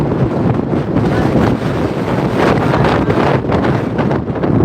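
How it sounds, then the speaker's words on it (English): Strong wind buffeting an outdoor microphone near open water, a steady loud roaring rumble with gusty swells throughout and no speech. "It's getting windier. So when it gets windier, if you can't hear me, I apologize."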